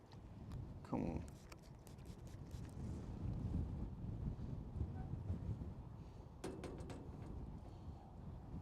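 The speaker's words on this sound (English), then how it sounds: "it's like super windy here." Strong gusting wind in Albuquerque buffets the microphone with a steady low roar, a louder burst near the start, and faint voices beneath.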